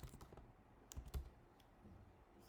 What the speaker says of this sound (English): Let's type it like that.